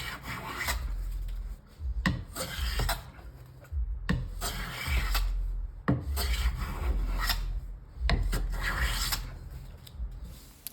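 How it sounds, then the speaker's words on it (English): Hand plane shaving wood for a chef knife scabbard (saya), a series of long rasping strokes with brief pauses between them, close and fairly loud, with no talking. "A plane leaves a clean surface which is nice and flat, which has produced a perfect glue joint."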